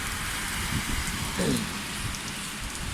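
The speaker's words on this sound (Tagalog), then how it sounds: "malakas ang ulan" Heavy rain pours down in a dense, steady hiss outside in front of a salon, with a faint voice murmuring briefly beneath it.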